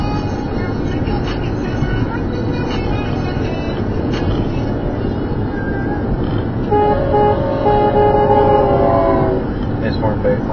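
Train horn honking beside a rumbling passing train, a loud, sustained multi-tone blast that starts partway through and holds for a couple of seconds over the heavy rail noise, with people talking nearby.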